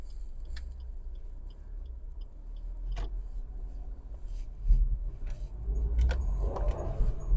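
A Maruti Suzuki Alto K10 with its handbrake released pulls away in first gear. The engine hum is steady and close, swelling louder toward the end as the car moves off, with no talk.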